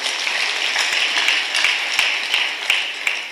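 A church congregation applauding at a pastor's installation service, dense continuous clapping from many hands, steady and full throughout.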